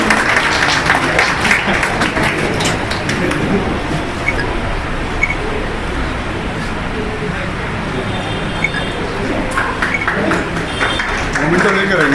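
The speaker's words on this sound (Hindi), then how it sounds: "तालियां मिलती हैं।" Audience applause at a literary and cultural competition held by a Hindustani library in Metiabruz, steady dense clapping lasting throughout with a few voices in the crowd.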